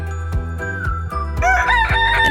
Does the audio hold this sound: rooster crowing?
yes